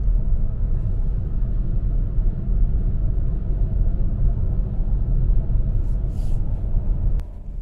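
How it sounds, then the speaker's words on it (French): Steady low road rumble and tyre roar fill the cabin of a Hyundai Tucson cruising at 110 km/h on a motorway, an even, unbroken drone with no voices. "On est à 110 km/h sur l'autoroute et la voiture est extrêmement silencieuse,"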